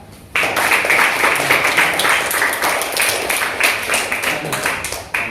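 A school assembly crowd applauds a student who won a gold medal at a karate tournament, breaking into sudden loud clapping that continues steadily and then thins out, with voices briefly audible.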